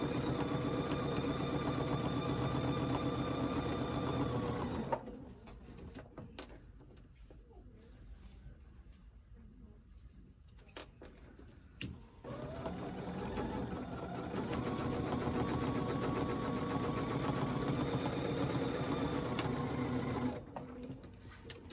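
A sewing machine doing ruler-guided free-motion quilting on a quilt sandwich runs in a steady whirring hum for about five seconds, pauses, then resumes and runs steadily again, close and with no talking.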